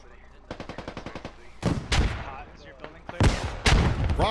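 Gunfire in the military video game Squad: a rapid burst of automatic fire, then several heavy, loud shots and blasts echoing in close succession, with faint commentary talk underneath.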